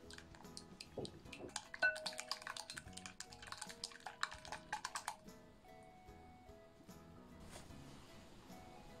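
Sugar is stirred into a peanut breakfast batter in a bowl, giving quiet, irregular clinks and taps of a utensil against the dish, busiest early on and then trailing off into near silence.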